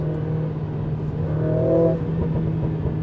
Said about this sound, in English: it has like a pops from exhaust.